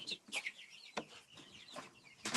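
Plymouth Rock chickens cluck softly nearby in short, scattered bursts, with a few sharper squawks mixed in against a quiet background.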